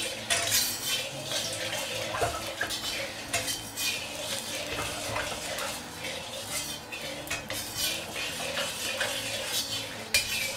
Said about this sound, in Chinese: 先把锅炙一下